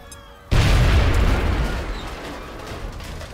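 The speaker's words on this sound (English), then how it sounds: "Grenade out." Grenade blast in the video game XCOM Long War: a sudden loud, deep boom half a second in, then a rumbling tail that slowly fades.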